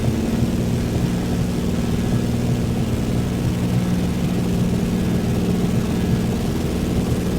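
Steady, loud propeller aircraft drone cruising at 8,000 feet and 81 knots in Microsoft Flight Simulator 2024, a constant low engine hum with broadband wind and rain-like hiss, holding even throughout with no talking.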